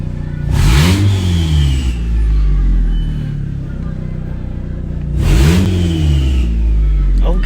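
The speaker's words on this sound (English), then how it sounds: "Listen to that turbo." A turbocharged car engine revs hard twice, each burst climbing in pitch with a whistling turbo spool, over a steady loud idle close by.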